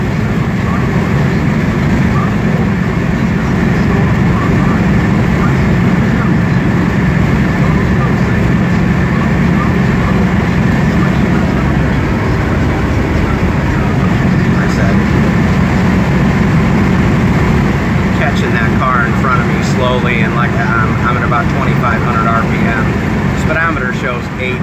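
A 1972 Dodge Dart Swinger cruising down the highway at around 70 mph, giving a loud, continuous low engine drone and road roar heard from inside the car, steady throughout with no break.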